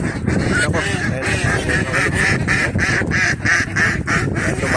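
A large flock of five-month-old ducks quacks continuously and loudly nearby, a dense overlapping chorus with no pause, with some voices mixed in.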